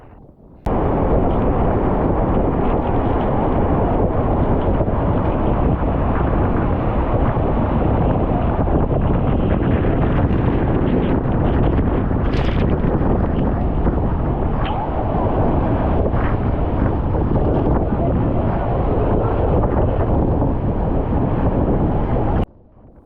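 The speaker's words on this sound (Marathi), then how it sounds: "तर बघू शकता वॉटरफॉलला किती वेग आहे, किती हवा येते, किती पाणी फेकत आहे अंगावरती" Strong wind buffets the microphone with a loud, steady roar of rushing, spraying water at Zenith waterfall in Khopoli, continuous and dense from start to finish.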